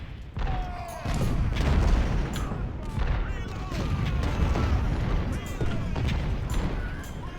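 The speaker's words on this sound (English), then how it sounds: "They are bombarding me. So they do have some artillery around here." Artillery bombardment in the Civil War strategy game Ultimate General: Civil War, with cannon booms and rumbling blasts rolling almost continuously over several seconds, loud and dense, with a voice talking throughout.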